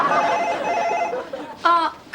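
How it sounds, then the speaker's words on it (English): Telephone ringing in a sitcom home scene, a loud trilling ring followed by a pause, then a short second ring burst, with a voice briefly heard between rings. "Could you get that for me, please"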